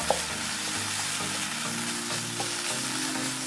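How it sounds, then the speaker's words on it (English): Minced beef stew with tomato paste frying in a pot and being stirred, a steady close sizzle with faint scraping, continuous and without talk. "So we're going to give it a stir."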